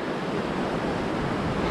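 Bright Angel Creek in the Grand Canyon near Manzanita Rest Area, flowing along the trail as a steady, dense broadband rush of water, close and constant with no voices.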